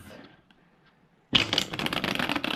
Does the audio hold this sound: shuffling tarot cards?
yes